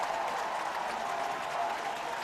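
Steady roar of a large football stadium crowd at a college game between Iowa State and Texas A&M, cheering after a missed field goal; a continuous, dense wash of applause and voices throughout with no clear individual speech.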